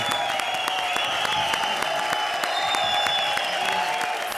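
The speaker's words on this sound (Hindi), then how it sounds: "पहले उनके लिए जोरदार तालियां बजाओ" Studio audience at a Comedy Circus taping applauds steadily and loudly, a continuous wash of clapping with faint sustained musical tones beneath.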